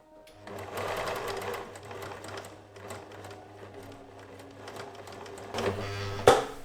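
A sewing machine hums and whirs as it stitches quilt pieces steadily, close by, ending with a sharp mechanical clack.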